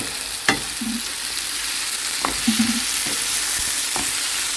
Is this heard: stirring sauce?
yes